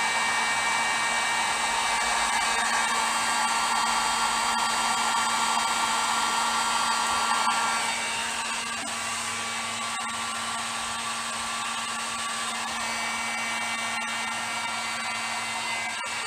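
A heat gun blows hot air on a C4 Corvette part with a steady high whine and airy rush, loud and close, dropping slightly in level and pitch about halfway through.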